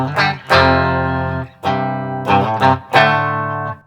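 Distorted electric guitar on the middle pickup playing sustained chords and short phrases from a song, with a thick effected tone, loud and close, with no talking.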